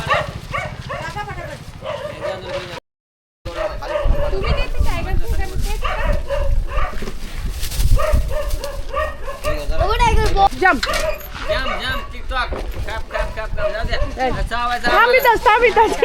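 A dog barks and yips several times close by while people talk over it, with a brief dropout early on.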